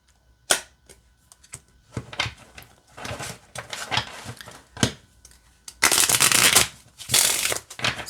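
Medieval Mischief tarot cards on flexible US Games Systems cardstock being shuffled in sharp bursts of riffling and snapping, with quiet gaps between, ending in a longer loud riffle.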